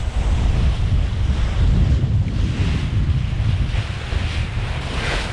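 An HR54 sailboat pounds to windward off the Exuma islands in the Bahamas as loud, steady wind buffets the microphone and waves rush and slap against the hull, with no voices.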